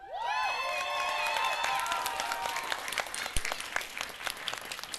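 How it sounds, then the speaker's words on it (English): Crowd applause with cheering and whoops at a furry convention fursuit dance competition, dense clapping and high shouts from a large audience that stay loud and steady before thinning toward the end. "One more round of applause."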